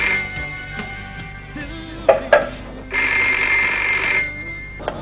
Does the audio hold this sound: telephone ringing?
yes